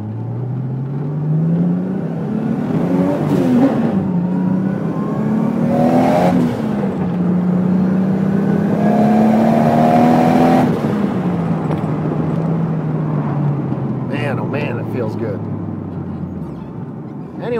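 An RB30 engine fitted with a Holset HY35 turbo in a Nissan S14 revs hard several times. Loud, close rising and falling engine tones swell and drop in repeated pulls, then wind down at the end.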